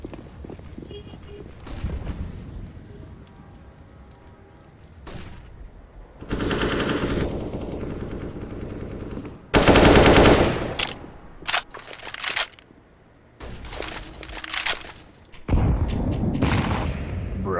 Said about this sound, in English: Barrage of nades coming in, catching no one.